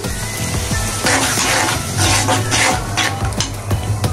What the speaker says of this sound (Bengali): মশলাটা কিছুক্ষণ কষিয়ে নিতে হবে।